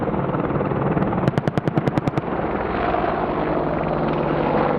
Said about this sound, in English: Its powerful chain gun is capable of firing at a rate of up to 625 rounds per minute.